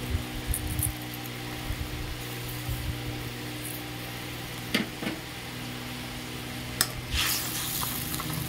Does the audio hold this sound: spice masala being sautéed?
yes